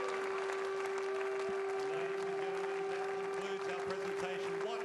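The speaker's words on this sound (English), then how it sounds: "Warm applause from this," Faint, steady applause from the crowd at a snooker final of the Australian Goldfields Open in Bendigo, Australia, with a low constant hum beneath it.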